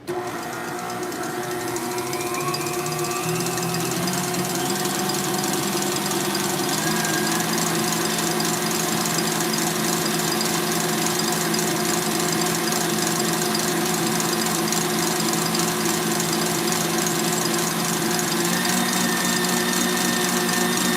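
An electric mixer whisks macaron batter with a steady, loud motor whine and rattling hum that runs unbroken, with slight pitch shifts as the beaters work.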